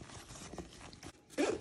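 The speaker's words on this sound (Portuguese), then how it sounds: "Muito fácil de fechar, muito, muito bom esse zíper" Nylon zipper on a JanSport Right Pack cordura backpack, drawn closed in one short burst of ripping teeth near the end, close and fairly loud after a softer, rustling lead-in.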